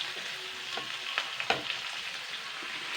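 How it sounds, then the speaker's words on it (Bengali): Chopped bottle gourd fries in a pan with a steady soft sizzle, broken by a few close spatula scrapes and taps as it is stirred, with no voices. "এইবার আমি লাউটাকে নাড়াচাড়া করব মিনিট 5 ধরে।"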